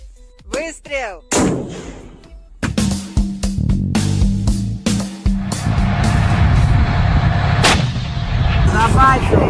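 Several loud, sharp gunshots boom one after another amid rumbling vehicle noise, with brief shouting voices at the start and distant chatter beneath.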